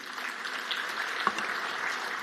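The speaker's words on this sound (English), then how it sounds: "Another round of applause, please." A conference audience gives a steady round of fairly soft applause after a speaker at a banking annual meeting, an even wash of clapping with one sharper clap near the middle and no talking.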